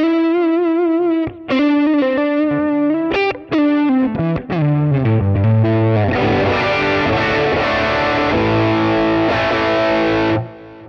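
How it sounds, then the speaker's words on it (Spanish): An electric guitar plays through a Nux MG300 modeler set to emulate an Exotic AC Booster overdrive, starting with sustained single notes and bends, then moving into loud, dense, crunchy strummed chords that ring out with no talking. "Luego aquí emula de la misma marca Exotic FX, pero emula un AC Booster."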